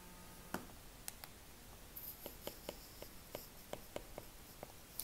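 Pen or marker writing on a board during a German days-of-the-week lesson: a run of small clicks and scratchy taps, close and faint, with no talk.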